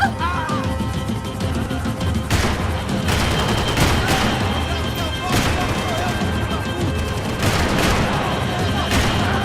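Dense, continuous gunfire in Max Payne 3, with repeated sharp shot bursts over a steady roar of chaotic action and raised voices throughout.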